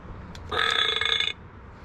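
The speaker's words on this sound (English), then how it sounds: "Fart gun, or like burp gun." A Rabbids Invasion toy burp gun lets out a single loud, buzzy electronic burp lasting under a second, standing alone against quiet background hiss.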